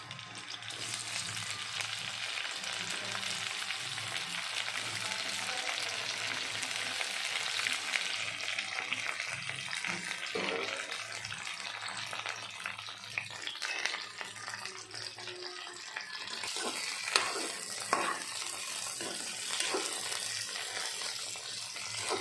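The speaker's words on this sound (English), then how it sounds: "we have to put the lady's finger Bhindi into it. So we need to fry it before making" Steady, dense sizzling of okra frying in hot oil, continuous and close, with occasional sharper pops and crackles rising above the hiss.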